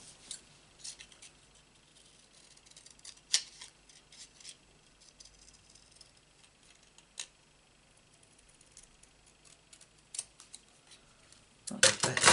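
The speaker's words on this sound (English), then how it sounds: "There's my big scissors." Scattered crisp snips and clicks of large scissors cutting paper at close range, sparse and irregular against a quiet background, ending in a louder rustling burst.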